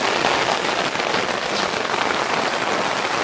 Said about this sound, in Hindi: बारिश आ गई तेज भाई थोड़ा सा